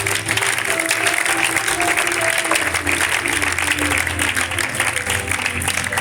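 Church congregation at a gathering applauding steadily, a dense, sustained wash of clapping from many people throughout, with faint voices mixed in.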